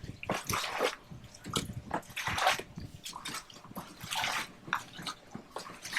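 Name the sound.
bailing water out of a folding kayak with a bucket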